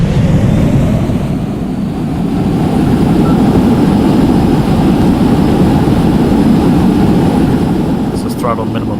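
An airliner's jet engines spool up into reverse thrust on landing in the Extreme Landings video game, making a loud, steady roar that holds for the whole stretch.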